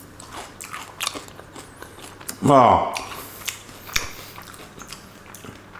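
Someone bites into a garlic butter stuffed mushroom with a crunchy breadcrumb topping, giving one short, close, loud crunch. A voice murmurs just before.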